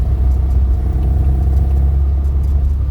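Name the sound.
classic Mini car driving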